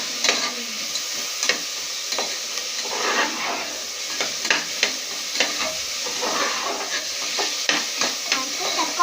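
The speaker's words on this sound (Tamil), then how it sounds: "கல்லுப்பு போட்டுட்டு நல்லா வதக்கிக்கணும்." Tomatoes and rock salt sauté in a pan, a steady sizzle broken by regular clicks and scrapes of a spoon stirring, close and moderately loud with no talking.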